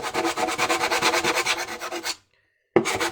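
A plywood wing surface is sanded by hand in quick, regular rasping strokes, close and loud, before a short pause and then a fresh burst of rubbing.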